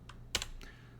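A few keystrokes on a computer keyboard while running ssh-keygen in a terminal: two or three quick clicks, one sharper and louder, fairly close, with no talking.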